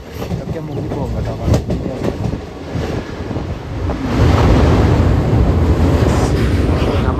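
A train rumbles across a bridge over the Brahmaputra in Tinsukia, Assam, a steady close roar of wheels and rail noise buffeted by wind, growing louder and denser midway through.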